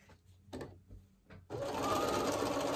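A sewing machine stitches Tilda quilt fabric at a 2.0 stitch length, first a few short stop-start bursts, then a loud, steady, close whirring run.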